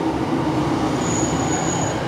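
A Class 156 diesel train pulls into a station with a steady loud rumble of wheels on rails, and a thin high wheel squeal rises over it partway through.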